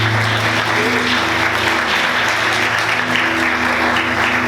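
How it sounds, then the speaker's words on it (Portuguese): A church congregation applauds together in a dense, steady wash of clapping that holds loud and even throughout, with a faint low hum underneath. "Vamos aplaudir Jesus"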